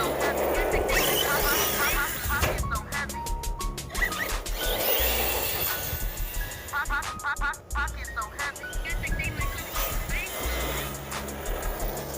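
A small electric motor in an Arrma Infraction RC monster truck whines and revs in surges with tires scrabbling over rough ground, loud and close, rising and dropping as the truck speeds around.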